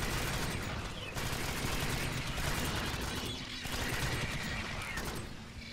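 Sustained gunfire from squad weapons against alien swarms in Alien Swarm: Reactive Drop, dense continuous automatic bursts that stay loud and close for the whole stretch, with brief dips between volleys.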